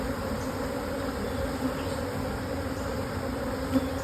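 Honey bees swarm and buzz around an open hive during a brood-chamber inspection, a steady, dense drone close by with no pauses, occasional louder bees passing near.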